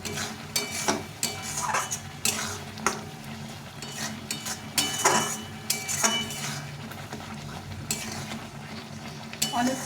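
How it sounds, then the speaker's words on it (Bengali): Spice masala for a tomato pickle is stirred and fried in a pan, with repeated scraping strokes of a spoon and occasional metallic clinks over a soft, steady sizzle. "মশলাটা দিয়ে একটু কষিয়ে নেব"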